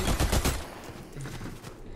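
A rapid burst of video game gunfire rattles out close and loud at the start, followed by quieter scattered shots in the distance.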